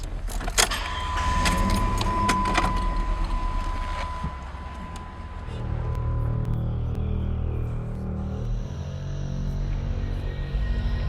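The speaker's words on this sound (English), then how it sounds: "Sounds like there's a car coming." On a dirt road on Gold Camp Road in Colorado, a car engine rumbles as the vehicle draws closer, steady and moderately loud, with keys jangling and wind noise early on.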